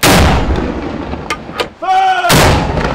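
Cannon fire from Fort Antoine in Monaco during an Easter-night salute: a loud booming blast opens, a shouted voice is heard mid-sequence, and a second heavy shot follows with rolling echo.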